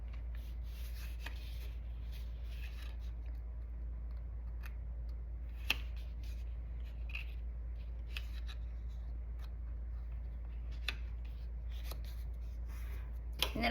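Scored paper being folded for a folio, faint crisp rustles and a few soft sharp creases and taps over a low steady room hum.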